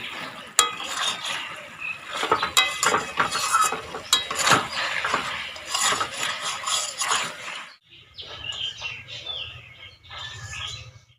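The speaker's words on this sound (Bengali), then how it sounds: "ভালো করে নেড়ে চেড়ে দিচ্ছি।" Chicken leg pieces are stirred in a pan with hand-ground masala and dried red chilli paste, the spoon scraping and clinking against the metal in steady close strokes, then a quieter stretch of soft sizzling near the end.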